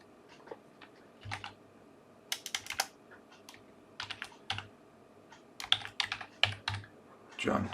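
Typing on a computer keyboard, with quick irregular bursts of close key clicks separated by short pauses, quiet against a faint room background.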